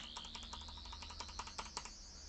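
Quiet keyboard key presses on a computer while playing the Roblox game TARDIS Flight Classic, a short run of soft clicks over a steady high electronic hum, several taps clustered near the end.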